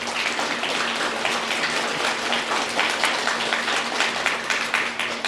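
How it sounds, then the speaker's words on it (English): Crowd of students and parents clapping at a fifth grade promotion ceremony, a dense, sustained round of applause with a faint steady hum underneath and no voices over it. "I want everyone to give themselves and your parents a round of applause for all your hard work"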